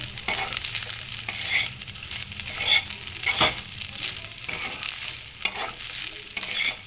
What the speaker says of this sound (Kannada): ನಾನೊಂದು ಸ್ವಲ್ಪ ಮೊದಲೇ ತುರಿದಿಟ್ಕೊಂಡಿರೋ ಕಾಯಿ ತುರಿನೂ ಹಾಕ್ತಾ ಇದ್ದೀನಿ